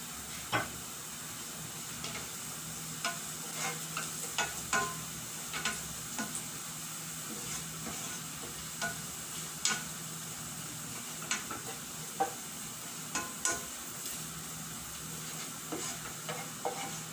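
Garlic frying in hot cooking oil for adobo with oyster sauce, steady soft sizzle under repeated light clicks of a spatula stirring in the pan, close and moderate in level.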